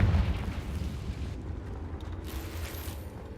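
Confringo fire spell explosion in Hogwarts Legacy, a loud booming blast at the start that fades into a rumbling, crackling tail, with no talk.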